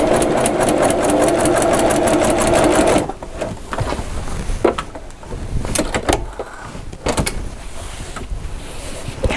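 A Brother Accomplish sewing machine stitches a hem with a fast, loud, steady motor whir for about three seconds, then stops, followed by scattered clicks and handling of fabric and thread.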